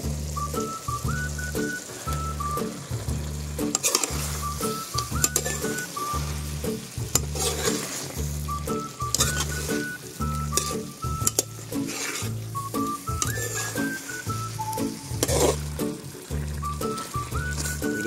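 Fried eggplant is stirred into sizzling pork binagoongan in a pan, with steady frying hiss and repeated scraping stirs under a loud, rhythmic music track.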